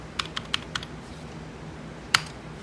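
Someone types a password on a computer keyboard to log in to a dial-up bulletin board system, producing a few sharp, separate key clicks in quick succession, then a pause and one louder keystroke, close and alone.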